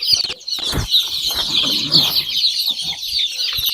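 Chickens cluck and squawk up close on a farm during a vaccination session, with wings flapping among the calls, loud and busy throughout.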